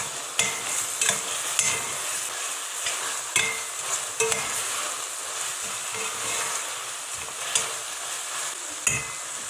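Meat and chopped onions sauté together in a pan, a bright continuous sizzle punctuated by repeated sharp scrapes and taps of a spoon stirring at close range.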